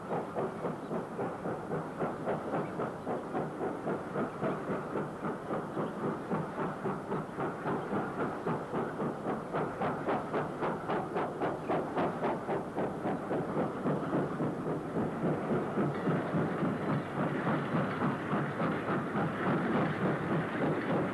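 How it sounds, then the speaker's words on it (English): Black 5 steam locomotive hauling a Class 7 unfitted freight in 1968, its even rhythmic chuffing and rolling wagon clatter sounding steadily for about twenty seconds, with no talk over it. "Heading eastwards towards Castleton and passing the connection up to Bolton Street in 1968 is Black 5 44947 on a Class 7 unfitted freight."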